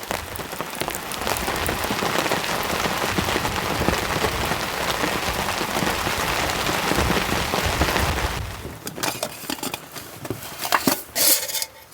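Heavy rain drums hard and dense on the roof of a camper van during a storm, a loud steady patter for about eight seconds, then easing into scattered, sharper drips and taps.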